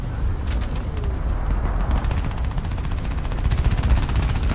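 Shotgun fire and combat in Crysis 3 keep going under a dense, loud game soundscape, with repeated bursts of shots blending into continuous rumbling noise.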